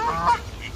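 A single loud honking call from a waterfowl at a park pond in Brookvale Park, brief and close, with faint outdoor background behind it.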